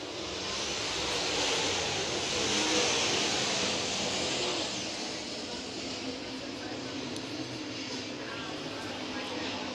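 Late model race cars circle Red River Co-op Speedway with a broad, sustained engine roar that swells and then eases slightly, under a faint voice.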